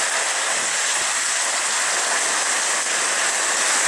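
Heavy rain pours down steadily in a marina where a sailing boat is moored, a loud, dense, unbroken hiss filling the scene close by.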